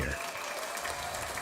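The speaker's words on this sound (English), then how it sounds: "Round of applause for you guys before we get out of here." Applause from a talk-show audience, a short, fairly faint burst of clapping with speech over it.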